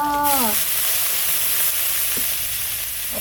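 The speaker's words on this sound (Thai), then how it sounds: "ผัดปลาดุกใส่ใบกะเพรา" Catfish stir-fries with holy basil in a hot pan, giving a loud continuous sizzle with faint stirring scrapes. A voice is heard briefly at the start.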